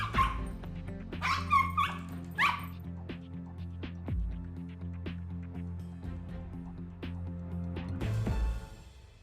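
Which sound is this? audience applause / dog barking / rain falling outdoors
dog barking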